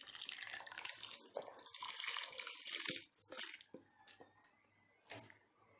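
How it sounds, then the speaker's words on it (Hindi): Rice is tipped into a pot of water boiling on a high flame while biryani is being made. Quiet splashing and bubbling are heard, with a few soft clinks and drips, and no talking. "इसमें चावल डाल देते हैं।"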